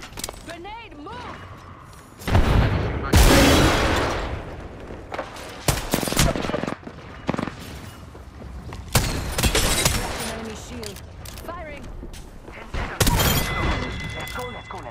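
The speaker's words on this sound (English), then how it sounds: "Frag out. Grenade, move!" Frag grenade blast and gunfire in the video game Apex Legends: several loud bursts and rapid shots spread across the clip, with a voice talking over the action.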